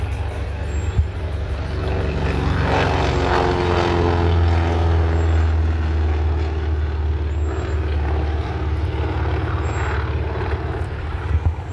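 A World War II Navy dive bomber, a propeller plane flying at an airshow, gives a continuous loud engine drone with a low throbbing hum that stays steady throughout, no speech over it.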